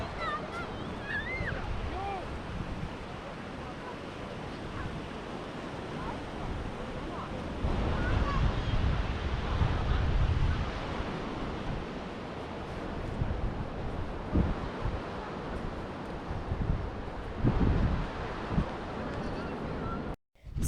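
Surf rolls in steadily on Morjim Beach in Goa, with waves washing ashore under gusty wind buffeting the microphone, a broad continuous roar that swells and eases.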